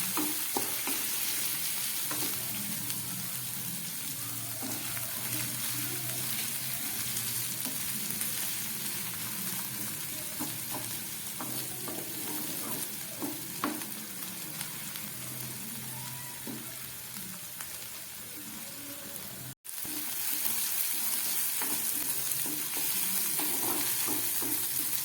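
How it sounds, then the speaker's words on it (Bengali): Onions and spices fry in a pan, a steady sizzling hiss carrying on throughout with the scrape and clatter of stirring, near and fairly loud, with a very brief break near the end. "খুবই সামান্য পেঁয়াজ দিলাম। খুব ভালো করে এটাকে ভেজে নিতে হবে।"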